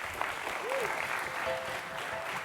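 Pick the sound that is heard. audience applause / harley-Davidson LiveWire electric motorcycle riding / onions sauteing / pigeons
audience applause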